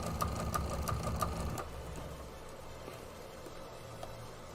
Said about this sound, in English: Just doing this last stitch around, and then we'll be able to take it off the machine and trim it up,